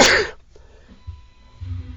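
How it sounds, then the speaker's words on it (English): A single loud, close sneeze bursts out at the start, then fades into quiet room noise with faint low rumbles after. "Has to sneeze."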